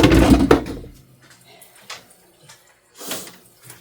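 Pink angora dye water poured out of a container, a loud splashing gush in the first second, then quieter trickles and a second brief splash near the end, close by.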